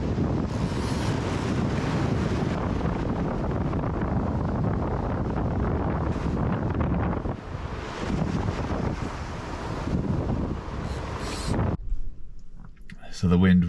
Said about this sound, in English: So the wind was a little bit much.